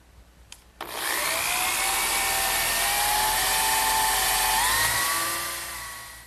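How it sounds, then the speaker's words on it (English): A power drill whines steadily and loudly after a brief click, its pitch shifting slightly as it bores a 3/8-inch dowel hole into wood for a trestle table, running for several seconds without pause. "I'm going to drill a 3/8 inch diameter, but not quite all the way through"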